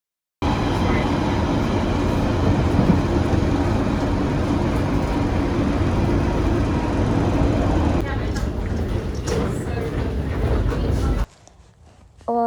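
A London train ride near Ealing Broadway, a steady loud rumble of the carriage running on the rails, with a voice talking over it, then a sudden drop near the end.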